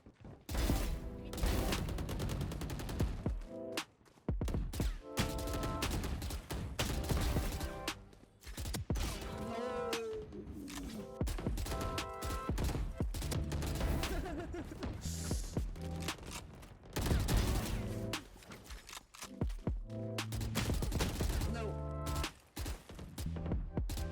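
Bursts of rapid automatic gunfire from a first-person shooter video game crackle loudly and almost continuously, with brief pauses between volleys, over game sound effects and a voice talking.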